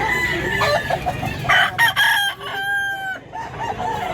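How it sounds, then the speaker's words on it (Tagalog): Roosters crow several times among clucking fowl at a Filipino gamecock sale, the calls close and loud, overlapping in a busy yard with other birds calling behind. "Napakagandang manok."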